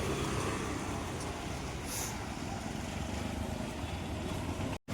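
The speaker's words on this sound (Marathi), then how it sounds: "गाड्यांचा आवाज" Steady roar of evening road traffic on a city street, vehicles passing continuously at close range, loud and unbroken throughout without any talking.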